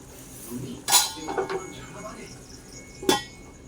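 A lid being set on a cooking pot of chicken, with two sharp metallic clanks about two seconds apart and lighter clinks between them.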